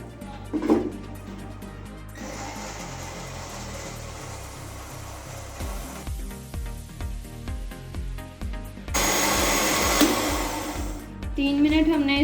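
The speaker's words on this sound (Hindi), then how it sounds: "तीन मिनट के लिए इसे अच्छे से ग्राइंड कर लेते हैं।" A blender grinds apple pieces with sugar into juice. The motor roars continuously, its pitch and texture shifting as the contents churn, with a brighter, louder whir toward the end.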